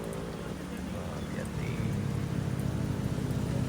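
Heavy rain falls steadily on a road during a cycling ride, a loud continuous hiss that swells partway through, with a brief spoken word over it.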